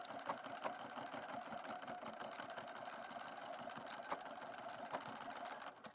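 A sewing machine stitches patchwork scrap fabric for a pouch, its needle chattering in a fast, even rhythm close by and steady for the whole stretch, with a few small knocks.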